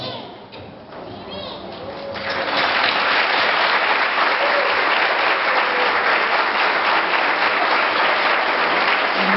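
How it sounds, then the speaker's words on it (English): Loud, sustained applause from a large crowd at a Fresno State University nurse pinning ceremony, building quickly after a brief moment of chatter and continuing steadily. "give you a round of applause for what you have done for us"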